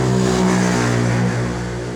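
An inexpensive imitation Honda motorcycle with a troublesome carburetor runs close by, its engine revving loud and steady with a throaty mid-pitched growl that eases slightly toward the end.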